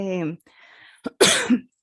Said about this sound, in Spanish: me da un poquito de tos